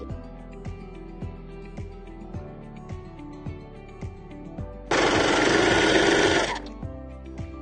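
A sewing machine stitching the shoulder seam of a hoodie gives a steady, rhythmic mechanical thumping, then breaks into a loud, dense burst of fast running stitching for about two seconds before settling back to the slower beat.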